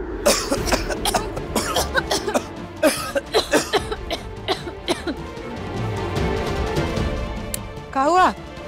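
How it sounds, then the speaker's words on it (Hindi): Two people cough repeatedly in short, overlapping bursts mixed with throat clearing and faint chuckles, close and fairly loud, in an indoor domestic scene, with a brief voiced sound near the end. "तुम दोनों इतना खांस खा रहे हो?"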